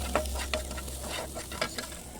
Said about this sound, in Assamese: এই আলুখিনি অকণ ভাজি পেলাম